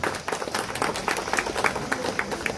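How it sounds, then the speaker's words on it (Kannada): An audience claps at a church anniversary mass for St. Joseph's, a dense, steady patter of many hands close by that fills the whole moment, with a few voices mixed in. "ಚಪ್ಪಾಳೆ ಹೊಡೆದಿದ್ದೀವಿ."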